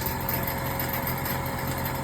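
An old-type train locomotive engine runs steadily after starting, a dense continuous rumble with a droning hum, close and even in level, with no voices over it.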